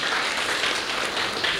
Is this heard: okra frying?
no